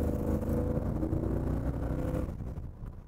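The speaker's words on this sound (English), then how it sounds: "listen to that exhaust" A 1956 Ford F100 pickup truck's exhaust rumbles steadily and loud while driving, a low throaty drone that eases off slightly toward the end.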